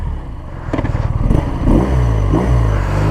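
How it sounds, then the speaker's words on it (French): A BMW R nineT Pure motorcycle engine revs up and accelerates close by, a loud rising growl with rapid rhythmic pulses that settles into a steady roar. "tu vois t'accélères, la moto elle a envie de se barrer à droite"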